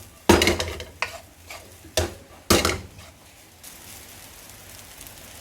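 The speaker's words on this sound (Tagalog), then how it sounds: "Tapos, ihalo nyo yung rice." Several sharp scraping stirs of pineapple Thai fried rice in a pan, each stroke a distinct spaced clatter over a soft background sizzle, with no talking.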